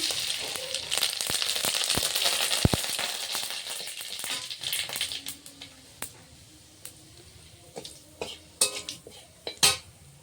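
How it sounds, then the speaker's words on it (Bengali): Dried red chilli and whole mustard seeds crackle and sizzle in hot oil for tempering, with metal utensil clinks and scrapes against the pan, the frying fading into sparse sharp pops and knocks. "একটা শুকনো লঙ্কা দেবো ফোড়নে, গোটা গোটা সর্ষে"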